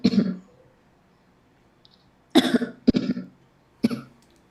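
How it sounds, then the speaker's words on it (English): Several harsh, close coughs in short bursts from someone with whooping cough: one at the start, then a cluster of two or three, and a final cough after a pause. "Got that whooping cough."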